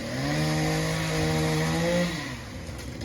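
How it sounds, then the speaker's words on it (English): Chainsaw running steadily in the background near a coil leak test, its engine tone holding for about two seconds before easing back, with no talk over it. "Sorry about the chainsaw behind us."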